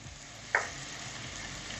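Chicken frying in a pan with masala powders makes a steady, fairly quiet hiss and sizzle, with one brief clink of a spoon partway through and no talking.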